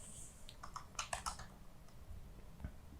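Keys clatter on a computer keyboard in a short burst of quick, soft typing, a cluster of clicks near the start, then a pause and a single faint tap, with no voice.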